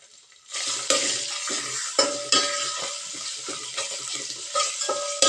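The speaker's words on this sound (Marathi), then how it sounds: "तेल त्याच्यामध्ये पातेल्यात टाकून घेते. त्याचप्रमाणे जे कांदा आहे ते त्याच्यामध्ये आपण चांगलं भाजून घेऊया." Onion frying in hot oil in a pot for sukha mutton, a steady crackling sizzle that starts abruptly, with repeated scraping stirs and spoon clinks against the metal pot, close and fairly quiet.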